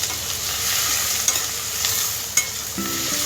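Cumin, curry leaves, chilli and onion fry in hot oil in a kadhai while a spoon stirs through them, a loud steady sizzle broken by a couple of sharp utensil knocks.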